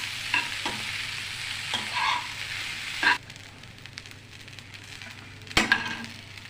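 Idli pieces frying in a home kitchen pan: a soft steady sizzle with a few louder stirring scrapes and clinks of a utensil against the pan, close and without voices.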